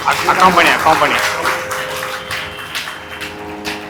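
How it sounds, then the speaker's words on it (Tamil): An audience applauds a Harikatha storytelling performance in a hall, a spread of clapping that follows a voice and then carries on steadily to the end. "எல்லாரும் பெருசா கரகோஷம் பண்ணி அவளுக்கு"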